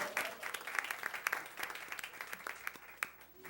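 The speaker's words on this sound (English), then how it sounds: "Let's give them another round of applause." A round of applause fills a board meeting room, a moderate crowd clapping steadily with scattered sharp claps throughout, fairly close and mid-level in volume.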